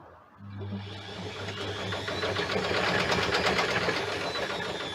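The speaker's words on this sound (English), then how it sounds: "on the side of it over here is a washing machine motor with a speed controller and a great big wheel just to send it round" A washing machine motor on a speed controller spins a large wheel on a cider apple scratter. It starts after a moment, then settles into a steady, loud mechanical whir with a fast rattling grind, with no voices.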